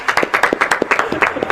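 Short burst of applause in a podcast studio, a few people clapping in uneven rhythmic bursts, close and fairly loud, with no talking.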